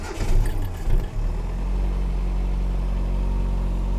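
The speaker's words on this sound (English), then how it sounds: "in a 1965 Austin Mini Cooper Mark I, left-hand drive." A 1965 Austin Mini Cooper Mark I with a newly built motor and transmission revs briefly, then settles into a steady, low, close idle hum.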